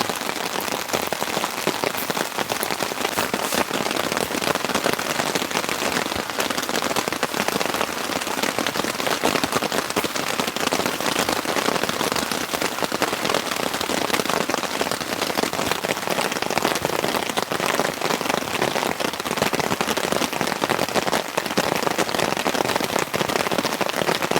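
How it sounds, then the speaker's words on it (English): Heavy rain pours steadily at a wilderness campsite, a dense, even hiss of drops on surfaces that never lets up, with no voices. "Camping in the rain."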